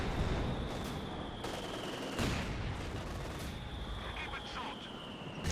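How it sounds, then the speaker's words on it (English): Battlefield gunfire and explosive mortar bursts from the WWII strategy game Company of Heroes 2, a continuous loud clatter of shots and booms running steadily under a commentator's voice. "Got a mortar fire there"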